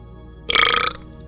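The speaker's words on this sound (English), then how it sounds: "Rate the burp." A single short, loud burp erupts close to the mic and lasts about half a second, with quiet room tone before and after.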